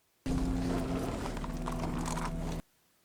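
Horses walk on a hard surface in a period drama, their hooves clip-clopping in an irregular rhythm that is close and moderately loud over a bed of low rumble, then cut off abruptly.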